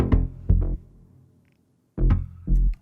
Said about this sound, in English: That's just the bass here.